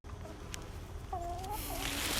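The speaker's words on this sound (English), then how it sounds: "Showing you the chickens." Chickens in a winter permaculture orchard give a few soft, drawn-out clucks and calls, fairly faint against a steady hiss of outdoor background noise.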